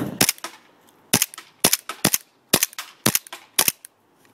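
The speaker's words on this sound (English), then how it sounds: "But this is George's 1911 with my barrel." A 1911 airsoft pistol fired in a string of about nine sharp, close cracks, spaced irregularly over a few seconds with quiet gaps between, no talk.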